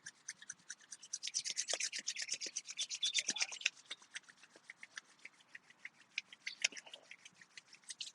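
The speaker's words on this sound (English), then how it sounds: "And rub your hands together." Hands rubbed briskly together during a yoga class, a steady run of dry, rasping friction strokes that is loud and close at first, then softer and more broken toward the end, with no talking.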